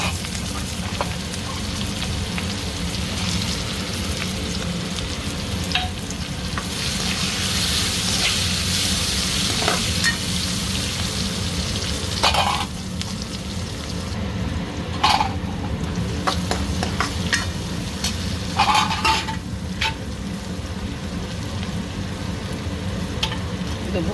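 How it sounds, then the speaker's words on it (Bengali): Cumin seeds, curry leaves and onion sizzle in very hot oil with a steady close crackling hiss, while a spoon scrapes and knocks against the pan at irregular moments throughout. "পেঁয়াজ, তেলও অনেক গরম হয়ে গেছে, তেলে দিয়ে দিলাম জিরে, কড়ি পাতা,"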